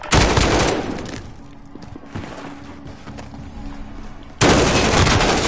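Loud bursts of rapid gunfire in Call of Duty Warzone open and close the moment, with quieter scattered shots and battlefield clatter in between.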